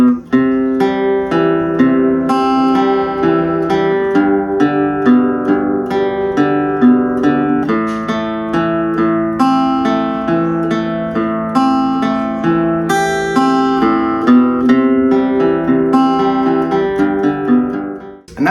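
Acoustic guitar strums the three-chord pattern of a song in a steady, even rhythm, ringing close and loud for the whole stretch with no voice.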